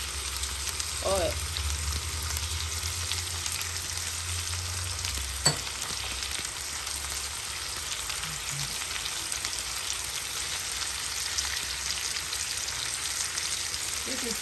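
Steak frying in grilling oil, a continuous close, dense sizzle that holds steady throughout, with a single sharp clack partway through and no talking.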